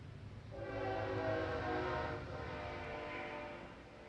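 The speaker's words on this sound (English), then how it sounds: "I'm sure you could hear the train coming through." A train rolls past near a baseball field, sounding a long sustained horn blast that swells and then fades into a steady rumble, fairly loud and with no talk.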